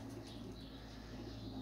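Pigeons coo softly in a loft, low, murmuring calls repeating under a constant background hum and rustle.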